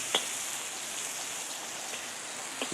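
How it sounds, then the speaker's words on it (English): Steady hiss of rain on a farmhouse roof blended with oil sizzling in a hot wok, a continuous soft wash of sound with a few sharper crackles and pops, nobody talking. "Between the sizzle of the wok and the sound of the rain on the roof, it's quite a noisy job."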